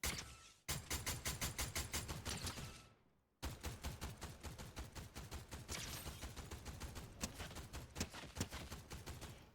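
Rapid automatic fire from the Fury assault rifle in Fortnite rattles out in two long sustained bursts separated by a short pause, loud, close and evenly paced.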